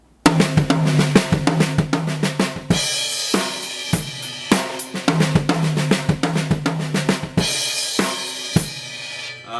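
A drum kit plays a fast, continuous linear sixteenth-note fill of rapid strokes moving across drums and cymbals, loud and close with crashing accents.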